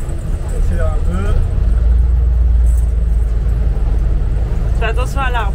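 A car engine drones as the car is driven along a road, with a steady low rumble rising slightly as it accelerates, and voices talking over it inside the car.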